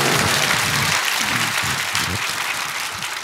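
Congregation applause at a large Sunday union worship service at Gwanghwamun, dense steady clapping from a big crowd filling the space, loud and continuous without speech.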